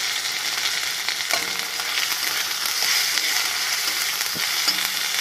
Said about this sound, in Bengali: কড়াইতে পড়ে গেছে তেল, সাথে জিরে, এখন আসছে টমেটো।